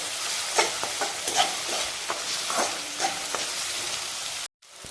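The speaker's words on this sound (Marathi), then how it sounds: "टोमॅटो पण चांगला परतून घेऊ।" Finely chopped tomato frying for a ridge gourd vegetable dish, with a continuous hiss of sizzling and repeated close spatula scrapes in the pan, then a brief cutoff near the end, no talking.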